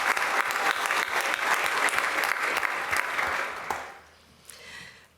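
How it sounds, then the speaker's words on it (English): At a university pitch event, the crowd gives a hearty round of clapping that stays strong for several seconds, then tapers off quickly into near quiet with a few last stray claps. "Let's give a great round of applause for Jason."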